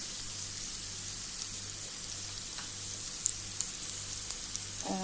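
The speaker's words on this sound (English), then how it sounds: "ginger, the spring onions, and I'm going to stir fry them" Ginger, spring onions and chilies stir frying in a pan, giving a steady, soft, rain-like sizzle with a low hum beneath and a few faint clicks near the end.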